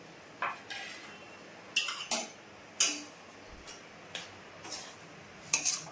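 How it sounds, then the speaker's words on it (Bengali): A wok set down on a lit gas stove clanks and scrapes in a series of sharp metallic knocks and ticks spread unevenly over a few seconds, over a soft steady burner hiss. "গ্যাস জ্বালিয়ে দিয়েছি, কড়াটা চাপিয়ে দিচ্ছি"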